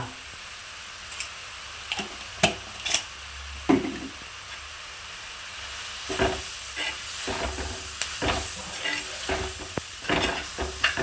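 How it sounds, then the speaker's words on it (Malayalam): A spoon scrapes and knocks against a pan while chicken curry is stirred, irregular clinks and scrapes over a faint sizzle, close by and without talk. "ചട്ടിയുടെ അടി തട്ടി തന്നെ ഇളക്കണം കേട്ടോ"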